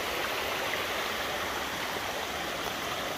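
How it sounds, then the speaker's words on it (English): Waterfall pouring over rocks at a rocky spot in Frozen Head State Park, Tennessee, a steady, dense, close rush of water that holds constant without a break. "this is the waterfall"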